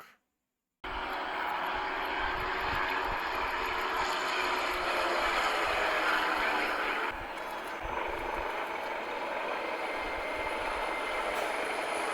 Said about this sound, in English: jets, helicopters, and troops carriers flying over the Union buildings, making a great roaring sound